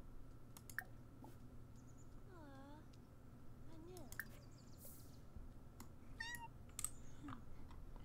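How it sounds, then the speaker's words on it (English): A kitten in The Sims 4 meows in short, rising calls, a few separate cries spread over several seconds, faint against a low steady hum of game sound and soft clicking. "Who locked the kitten out? Let the kitten in."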